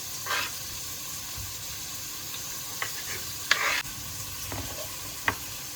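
Tomatoes tipped onto lightly stewed, already translucent onion in a pan, giving a soft steady sizzle with a few stirring clicks and scrapes, quiet and close.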